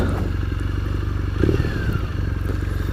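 A 2015 Triumph Thruxton motorcycle idles and putters at low speed during tight U-turns, a steady close engine thrum with a short clattering burst midway.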